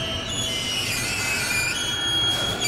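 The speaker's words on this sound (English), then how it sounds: "On average, 5 trains with 4 wagons use this railway line every day." A freight train of wagons on a rail line serving a waste-to-energy plant rolls past in a tunnel, a continuous loud rumble with high metallic wheel squeal throughout.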